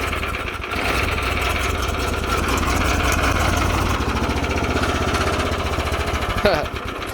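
A Bolens 1600H lawn tractor engine runs steadily with a rough, rattling putter, close by and continuous throughout.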